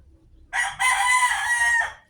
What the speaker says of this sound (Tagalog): At yun na nga, may tumitilaok pa nga.